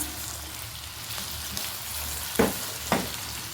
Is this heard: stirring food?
yes